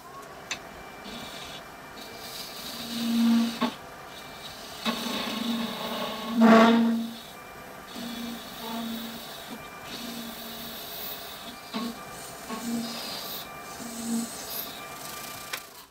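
Wood lathe turning the stem of an egg cup, a quiet steady motor hum with intermittent scraping bursts as the tool cuts, one louder catch near the middle.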